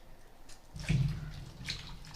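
Water sloshes and pours as taro stolons are rinsed in a bowl and the wash water is tipped away, a brief low splashing swell with a fainter trickle after, close and fairly quiet.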